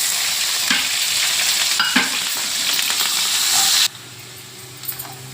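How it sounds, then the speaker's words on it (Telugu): Chopped onion fries in a pan with mustard seeds for a capsicum curry, giving a steady loud sizzle with occasional stirring scrapes that drops abruptly to a quieter hiss near the end. "ఉల్లిపాయ మంచిగా వేగింది"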